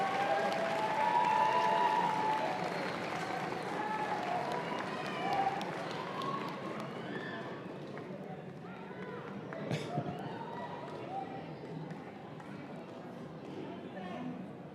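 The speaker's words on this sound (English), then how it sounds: "have you all stand and face your family members and give them a round of applause" Graduates at a spring graduation ceremony turn to give their families a round of applause, a broad wash of clapping that is loudest at the start and slowly thins, with crowd murmur and voices throughout.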